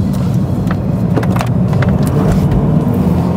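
A BMW 120d coupé's diesel engine hums steadily from inside the car while driving along a tight bend, low and continuous with faint road noise and no talk.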